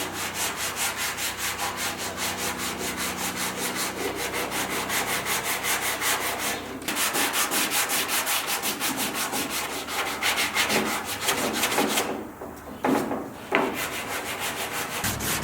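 Continuous sanding of Bondo body filler on a car fender from a 1972 El Camino LS-swap build, steady close rubbing strokes with a brief pause in the middle and another near the end.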